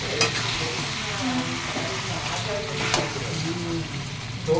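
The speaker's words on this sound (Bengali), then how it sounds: "এই মাংসটা আবার আমি প্রেসার কুকারে ঢেলে দিয়েছি।" Browned goat meat tipped and scraped into a pressure cooker, with a steady close sizzle and stirring clatter running throughout and a couple of sharper scrapes.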